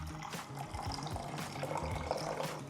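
Warm water is poured into a tomato paste sauce with pomegranate molasses, garlic and sumac, giving a soft, continuous splashing trickle close by in a kitchen, with no one talking.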